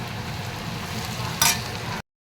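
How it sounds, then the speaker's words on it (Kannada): Washed poha (avalakki) with onion and carrot stirred in a pan, a steady soft scraping and light sizzle with one brief sharper clink near the end, no talk. "ಇದ್ರಾಗ ಹಾಕಿ ನೀಟಾಗಿ ಮಿಕ್ಸ್ ಮಾಡ್ಕೊಂಬಿಡಿ"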